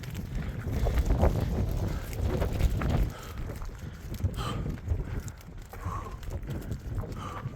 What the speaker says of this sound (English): The wind is strong enough to push us around up here.